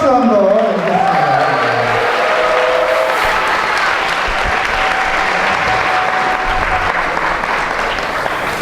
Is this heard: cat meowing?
no